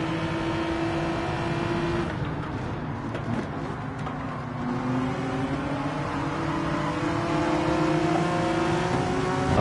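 Honda NSX race car engine in Gran Turismo 7, a steady loud drone that builds and climbs in pitch as the car accelerates, running continuously throughout with no talk over it.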